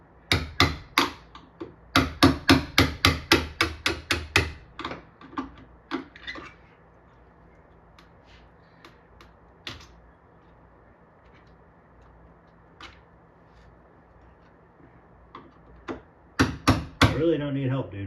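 Sharp hammer blows strike metal leg levelers being fitted to a piece of furniture, a fast run of about a dozen close, loud knocks, then a few more, with a voice speaking faintly between, and a cat nosing around nearby.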